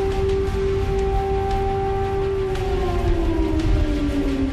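Air raid siren wailing over the port city of Odessa, a loud sustained tone that slowly drops in pitch near the end, steady and dominant with faint background noise beneath.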